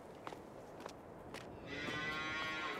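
Cattle in Farming Simulator 22 moo in short calls, with soft steps or thuds early on, then a steadier broadband farm ambience rises for the last second.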